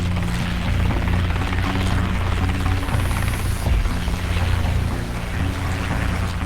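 Boeing CH-47 Chinook twin-engine dual-rotor helicopter working over water with small boats, a dense, loud, continuous rotor and engine roar with steady churning texture throughout, no voices.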